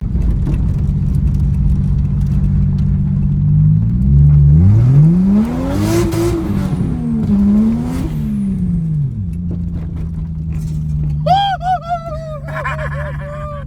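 Drift car fitted with a naturally aspirated 2JZ engine revving hard, a steady idle rising into loud sweeping revs and falling back, close by, then a brief higher whine near the end; no talk.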